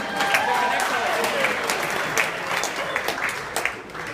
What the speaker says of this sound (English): I want you to give a round of applause for them.